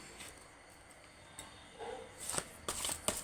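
Tarot cards are shuffled and drawn in a short burst of close papery riffles and flicks, growing busier toward the end, with no talking.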